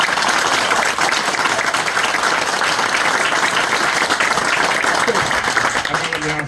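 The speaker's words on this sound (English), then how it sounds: "Yeah, clap for them." A crowd at a Patriot Guard Riders gathering for SSgt Daniel Lister applauds the speaker's children, a dense, steady wash of clapping that holds evenly for several seconds before thinning slightly at the end.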